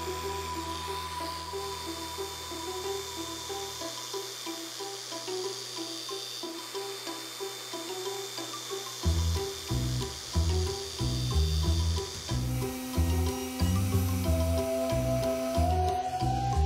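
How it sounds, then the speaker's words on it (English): An ArborTech random orbit contour sander, fitted on a 5/8-11 arbor, sanding wood: a steady high whine and rough buzzing runs throughout, close and continuous, with a throbbing, rhythmic scrubbing added in the second half. "as well as the contour sander, which is a random orbit, and that fits right on any 5/8 11 arbor"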